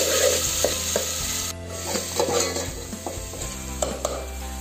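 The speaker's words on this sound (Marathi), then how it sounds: "आता फोडणी घालते. तूप तापल्यावर त्याच्यात आपण घालतो." Spices for a tempering crackle and sizzle in hot ghee, a steady close frying hiss with sharp pops and occasional utensil clinks, cooked for a traditional Malvani cucumber dhondas cake.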